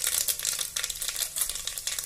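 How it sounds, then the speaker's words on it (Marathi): Mustard seeds sizzling and crackling in hot oil inside a pressure cooker over a low gas flame, a steady bright hiss with rapid popping, close and without speech. "तेल गरम झालंय, आता मोहरी घालते।"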